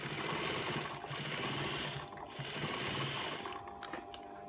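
A sewing machine runs steadily while back-stitching a seam on a fabric face mask made from leftover threads, its whirring stitch noise close and continuous. It briefly slows and then speeds up again as the stitching reverses.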